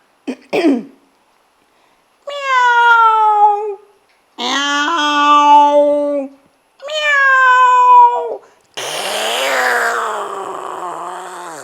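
A human voice imitates two cats fighting: a short yelp, then three drawn-out, wavering yowls, and a harsh hissing snarl at the end. Loud and close, with pauses between the cries.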